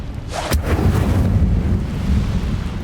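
Incendio fire spell cast in a Hogwarts Legacy-style wizard game, a sharp whooshing crack followed by a deep, rolling fiery rumble that lingers loudly for a couple of seconds.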